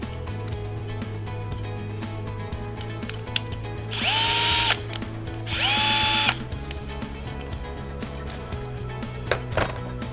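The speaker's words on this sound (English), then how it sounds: "This is Bosch GSR 120Li, Professional Cordless Drill and Driver." A Bosch GSR 120-LI 12-volt cordless drill/driver whirs in two short bursts, each spinning up to a high steady whine and stopping, over a low constant hum and faint clicks.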